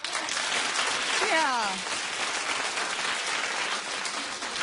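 A studio talk-show audience claps in a steady wash of applause, with a voice briefly rising over it.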